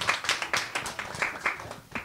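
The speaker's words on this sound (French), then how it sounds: "Et on peut l'applaudir quand même." Rhythmic hand clapping at an evening science talk event, a small audience clapping together in steady even beats for about two seconds.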